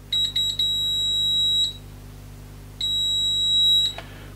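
A Lidl Profi multi-purpose 5-in-1 detector, model HG02404, sounds its alarm with a shrill piercing tone, first a few quick chirps, then a long steady blast, a pause, and another long blast, close and loud over faint background hum.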